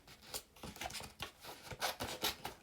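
Scissors trim a paper card sheet for a floral frame DL card, a close series of quick crisp snips and rustling paper strokes in an uneven rhythm, with no voices.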